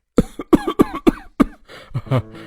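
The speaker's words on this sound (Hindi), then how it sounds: "उसे बहुत तेज खांसी आने लगती है" A run of harsh, loud coughs in quick succession, about five bursts close together, ending in a rougher, throatier hack.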